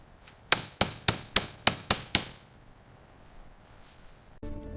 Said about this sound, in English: Securing the wheels with the classic knockoff hammer.